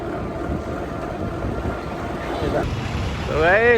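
Steady wind rushing and buffeting against a microphone, loud and continuous, with a brief whistling squeal near the end.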